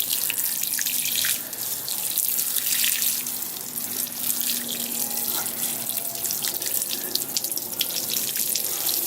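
Water splashes and patters steadily from a watering can poured over the soil of a potted fiddle leaf fig, a continuous close hiss of sprinkling water without speech.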